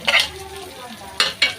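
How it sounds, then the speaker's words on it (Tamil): Tomatoes sizzle in a pan under a soft frying hiss, broken by three sharp scraping strokes of a spoon, all close by, with no talking. "இப்போ நம்ம தக்காளி போட்டுக்கலாம்."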